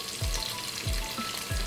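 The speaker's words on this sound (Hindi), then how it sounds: "अब मैं इसमें 1 दरमियाने साइज का टमाटर डाल दूंगी" Aloo gobi of potato and cauliflower frying in a pan as medium tomato goes in, giving a steady background sizzle with three soft low thumps from stirring spaced evenly apart.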